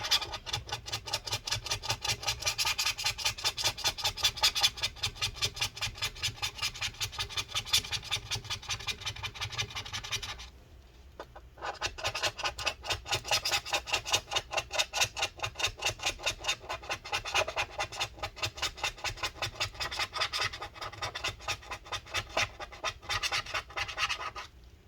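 A tool scrapes rapidly and repetitively at the glued battery inside a 2012 15-inch Retina MacBook Pro A1398, close and steady, with a brief pause midway before the scraping resumes.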